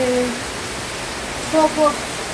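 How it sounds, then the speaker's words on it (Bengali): Heavy rain pours down steadily near a house veranda, making a dense, even hiss throughout with a couple of faint brief tones late on. "ভালো বৃষ্টি হচ্ছে।"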